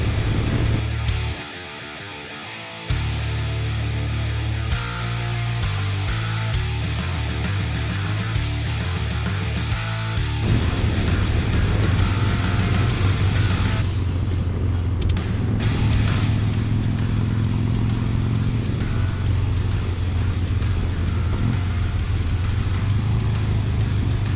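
A Harley-Davidson Bad Boy motorcycle being ridden, its engine a loud, deep continuous rumble with a brief drop early on before it picks back up and holds a steady throaty drone, close throughout, no talking.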